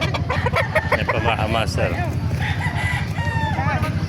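Gilmore gamefowl roosters at a live poultry market in Bocaue, Bulacan crow and cluck close by, several birds overlapping, while someone talks over them amid low market bustle.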